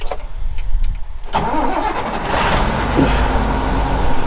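A tractor engine, likely a Massey Ferguson, cranking on the ignition and catching, settling into a loud steady idle close by after a second or so of starter whirring.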